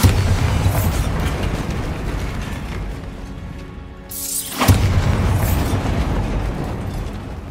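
A Bombarda blasting spell goes off in the Hogwarts Legacy video game, a loud booming burst with a brief hollow dip in the middle before a second heavy impact rumbles on through the rest.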